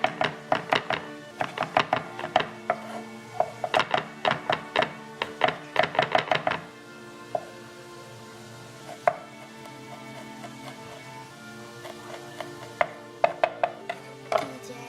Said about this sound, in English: I just want to do some rough cuts here